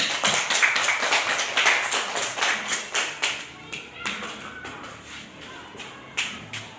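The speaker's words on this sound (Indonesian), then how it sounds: "Kita berikan tepuk tangan untuk Alvin" A class claps for a student named Alvin during an Indonesian school lesson, a stretch of individual hand claps and taps that starts brisk and dense, then thins into scattered, fading claps with a late burst near the end.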